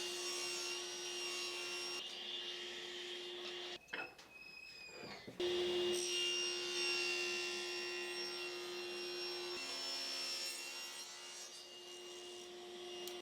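A saw rips a walnut board lengthwise into a thin strip in a workshop, producing a steady whining hum with a brief rougher break partway through before the cut carries on evenly.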